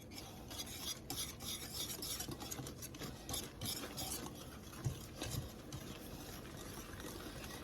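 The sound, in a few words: whisk stirring blueberry cake batter in a bowl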